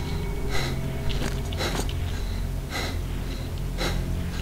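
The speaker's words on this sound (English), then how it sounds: "When your health gets low, you can hear the heavy breathing." A wounded, low-health player character in S.T.A.L.K.E.R. Shadow of Chernobyl breathes heavily, with a run of ragged gasping breaths in a steady rhythm over a rumbling game background.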